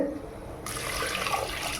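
Water pours steadily into a pot of washed rice and lentils with a rushing, splashing sound that starts suddenly and continues to the end.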